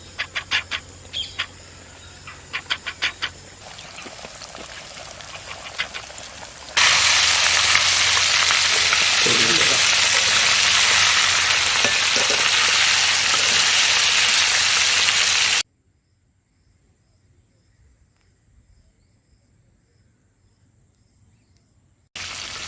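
Flour-coated chicken dropped into hot oil in a pan, KFC style, giving a loud, steady sizzling hiss with crackles after a stretch of quieter sounds, then near silence.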